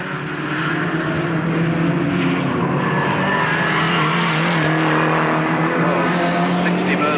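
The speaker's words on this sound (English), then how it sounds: "all cars are going this time, so it's definitely an all-go start" Super modified race cars at Alwalton Raceway launch together from the start, a loud sustained engine roar with rising tones and some tire noise, close and continuous, while an announcer talks over it.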